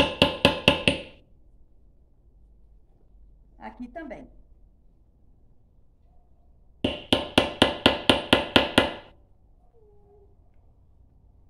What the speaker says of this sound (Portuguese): Eu coloco e vou martelar.